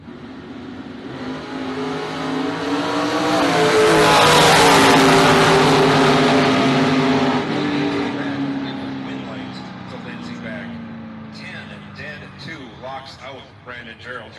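Drag racing trucks launch down the strip in bracket racing at Immokalee Region Raceway, their engine roar swelling to a loud peak and then fading into the distance while an announcer talks over it.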